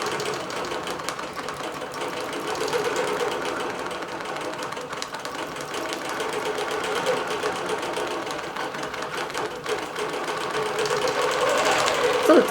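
A computerized quilting machine stitches a green batik lap quilt with a fast, steady mechanical chatter that runs continuously at moderate volume, and a faint voice is audible in the background.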